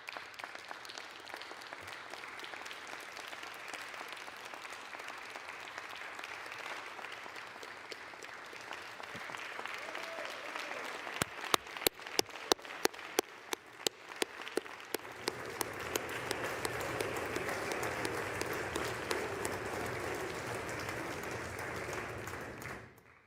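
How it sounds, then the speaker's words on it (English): Applause in the House of Representatives chamber during a floor session, a broad sustained ovation that swells, breaks into a few sharp loud claps near the middle, then continues as a softer steady roar. "they deserve all of our applause today"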